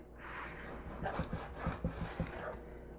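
A knife slices beef into inch-thick strips on a cutting board for ginger beef, giving a run of close, soft rubbing strokes and light taps, with no talk.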